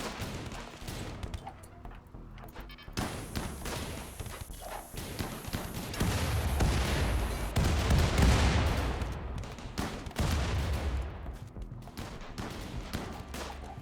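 Turrets in Rimworld fire at raiders on the grasslands in a long stretch of rapid, clattering shots, a steady dense fusillade of cracks with occasional heavier bursts and no talk.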